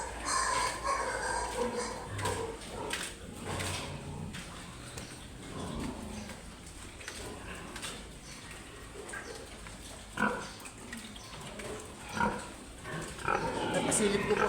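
Pigs and piglets on a farm keep up continuous grunting and oinking at close range, with a few louder squeals and snorts near the end.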